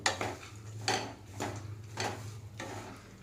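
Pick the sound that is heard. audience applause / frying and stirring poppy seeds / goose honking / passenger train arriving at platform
frying and stirring poppy seeds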